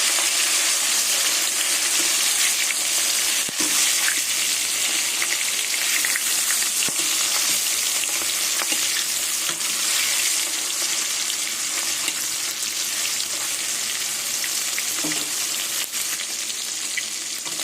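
Rohu fish pieces sizzle in hot oil in a kadai, a continuous close crackling hiss with scattered sharp pops and a few faint clinks, no voices.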